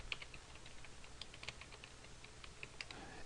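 Soft, rapid typing on a computer keyboard while entering data in an Excel spreadsheet, light irregular key clicks close and quiet over a faint background hum.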